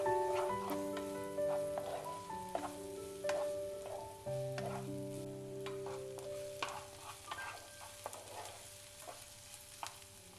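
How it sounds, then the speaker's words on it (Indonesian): Steady, soft sizzling of minced garlic and shallots sautéing in oil, with occasional stirring clinks and scrapes over a continuous crackle. "Ini ditumis sampai kedua bawang ini tercium bau harum."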